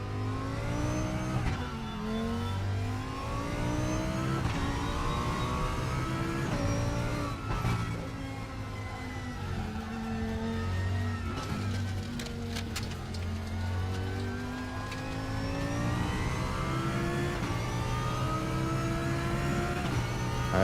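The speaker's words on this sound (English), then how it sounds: "all of the other sims, they crank like their older cars, where you have to hold the ignition down" A race car engine in the RaceRoom sim racing game revs steadily, its pitch sweeping up and down through repeated throttle blips, loud and continuous throughout with no other sounds on top.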